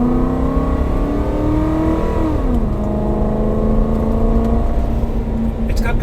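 A vehicle with a 5.4 engine, newly repaired after a running problem, accelerates hard. Its engine drone climbs in pitch, dips at a shift around the midpoint, then keeps pulling steadily and loudly up close.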